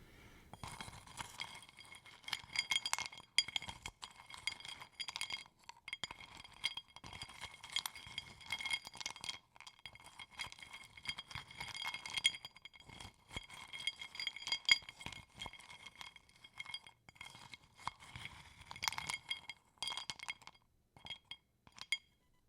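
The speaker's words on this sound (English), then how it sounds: "maybe I can do a longer video dedicated to these wooden spoon sounds" Wooden spoons clinking and tapping together in quick, irregular clusters, close and fairly quiet, with bright clicky knocks repeating throughout and no talking.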